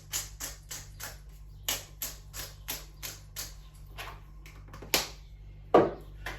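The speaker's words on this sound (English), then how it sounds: "and whisk again to combine." Whisk tapping quickly against a bowl while combining a thin seasoned sauce for asparagus and eggs, a steady rhythm of close, light clicks with a couple of sharper knocks, no talking.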